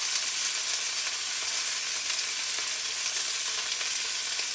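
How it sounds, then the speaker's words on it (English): Pork pieces frying in hot pork fat in a pan, a steady dense sizzle that holds loud and even throughout, with no talking. "time to drop some pork into the pork fat. Let that fry up a little bit."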